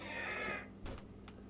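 A creature in the survival video game 7 Days To Die lets out a harsh crow-like squawk, loud at first and fading, then two shorter cries follow against a steady game background.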